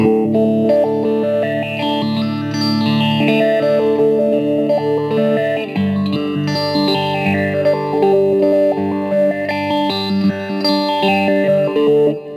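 An electric guitar through a Fender Mustang LT 25 amp's step filter effect, its tone jumping in rhythmic sweeps across sustained chords, loud and alone.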